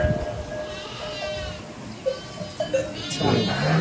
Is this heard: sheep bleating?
yes